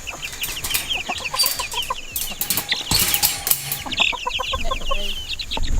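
Backyard homestead chickens clucking and squawking close by, a busy overlapping chorus of short repeated calls with scattered rustling and no talk.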